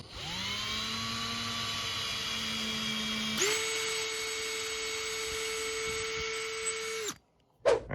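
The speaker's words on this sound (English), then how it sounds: "I went with a slightly larger drill. I'm gonna drill this out just a little bit bigger." A power drill whines steadily at close range while drilling out a hole in plastic, its pitch jumping higher midway as it bites in, then stopping abruptly with a brief clatter.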